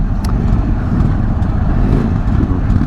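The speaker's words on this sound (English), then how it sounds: "Alright everybody, start the engines." Several Indian Super Chief Limited motorcycles start up together at a 2023 demo day, filling the air with a loud, steady low engine rumble and idle that continues without pause.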